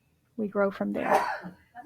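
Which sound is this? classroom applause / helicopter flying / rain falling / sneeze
sneeze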